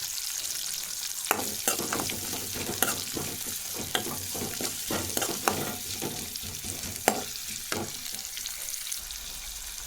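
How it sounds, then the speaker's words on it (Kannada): Chopped onions frying in oil in a clay pot for a rural-style sprouted-legume curry, a continuous close sizzle broken by frequent clattering scrapes and knocks as the onions are stirred, no speech. "ಈರುಳ್ಳಿ ಕಂದು ಬಣ್ಣ ಬರೋವರೆಗೂ ಹುಡ್ ಹುರ್ಕೊಳ್ಬೇಕು"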